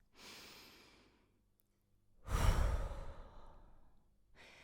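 Slow, deep breaths, a long audible exhale followed after a pause by a heavier, louder breath in, close and quiet with no talking.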